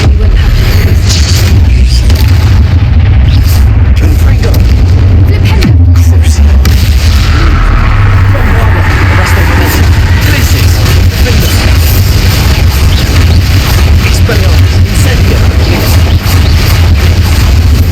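A Confringo fire spell explodes in the Hogwarts Legacy video game, a loud booming blast with a sustained rumbling roar and crackling bursts, and voices are heard briefly.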